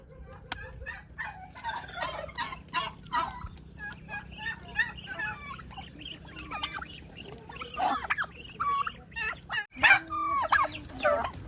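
Turkeys gobble and fowl cluck on a provincial farm where ducks are also kept, repeated close calls over a steady low background hum, growing busier and louder toward the end.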